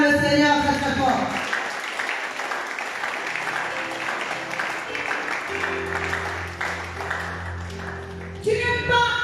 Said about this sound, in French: Acclame le Seigneur très très fort.